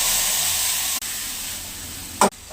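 Green chili paste hits hot oil with black mustard seeds and sizzles, a loud, steady close hiss with a brief sharper burst near the end.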